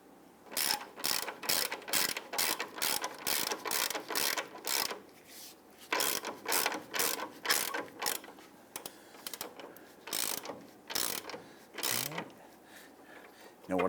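A hand ratchet snugs the lower control arm bolts on a 2000-2006 Toyota Tundra during a bushing replacement, rapid clicking bursts repeated in quick strokes with short pauses, close and clear.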